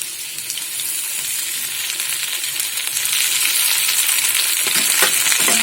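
Papaya and potato pieces frying in a pan with green chillies and ginger-cumin paste for a vegetarian Bengali curry, giving a loud, steady, close sizzle that grows a little stronger partway through.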